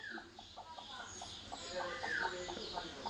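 A hen clucking in its coop, a series of soft, rhythmic clucks spread across the clip, faint and fairly close, with a brief higher call partway through.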